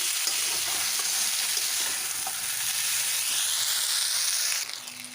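Ginger spice paste sizzles steadily in hot oil while being sautéed for a cumin rohu fish curry, a dense continuous frying hiss with occasional soft stirring scrapes that drops off slightly near the end.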